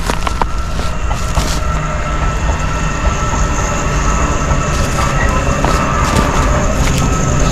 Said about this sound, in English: Slow train there, mate.